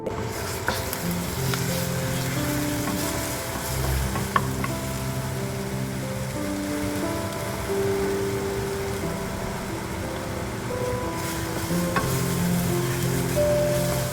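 Ginger garlic paste sizzles in oil in a pan before chicken is added, a continuous even frying hiss with occasional stirring taps and a low hum underneath, no talking.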